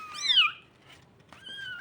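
Newborn kittens of a white and orange cat give two thin, high meows close by, a rising-and-falling cry and then a shorter steady squeak after a brief pause.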